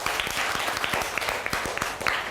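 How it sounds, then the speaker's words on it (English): A class of students claps for a classmate, a dense patter of many hands that is moderately quiet, with a few sharper individual claps standing out. "Clap everybody for him."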